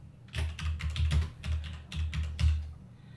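Rapid typing on a computer keyboard while entering input into an online compiler, with steady irregular key clicks and taps close by, alone without talk.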